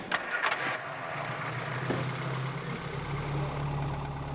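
A Vanden Plas Princess car engine cranks and fires with a couple of sharp bursts, then settles into a steady low idle, heard close in a quiet setting.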